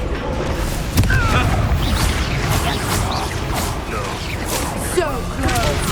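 Confringo blasting spells and explosions in the video game Hogwarts Legacy, loud booms and whooshing bursts layered with clattering combat effects and shouted spell incantations throughout.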